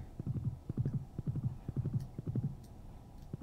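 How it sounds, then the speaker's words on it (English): Horse hooves clop in quick, even groups of beats as a horse trots across a wooden bridge in the farming game Stardew Valley, light and fairly quiet with no voices. "horse is impressive going across that bridge."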